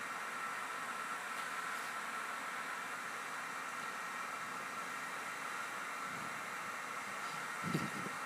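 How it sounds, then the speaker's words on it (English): A hair dryer blows into a crayon mold with a steady, faint hiss of rushing air, unchanging throughout, with a brief soft knock near the end. "putting her hairdryer inside of the crayon snake"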